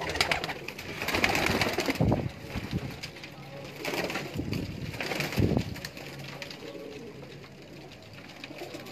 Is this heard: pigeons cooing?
yes